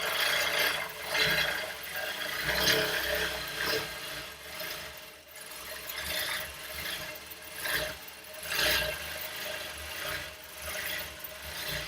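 Longarm quilting machine stitching a meandering pattern across a quilt, a steady close mechanical whir and rhythmic rasping hum that swells and eases continuously with no talking.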